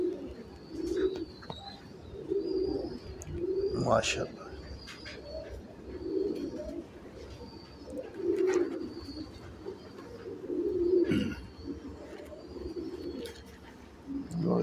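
A prized pigeon coos in repeated low, throaty bursts every second or two, close and fairly loud, while someone speaks briefly between the calls.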